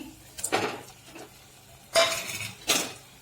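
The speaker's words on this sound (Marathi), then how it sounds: "आता याच्यामध्ये मी घालते अंडी।" Eggs being added to masala in a pan: a few clattering knocks and soft sizzling bursts with metal utensil scrapes, spaced out with quiet gaps between.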